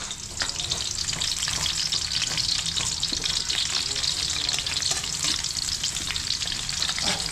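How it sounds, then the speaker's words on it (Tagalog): Garlic sautéing in a pan gives a dense, crackling sizzle that holds steady and close, broken by frequent light scrapes and taps of a stirring utensil, with no voices. "magigis na tayo bawang"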